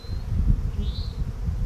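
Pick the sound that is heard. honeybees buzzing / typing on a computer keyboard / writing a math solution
honeybees buzzing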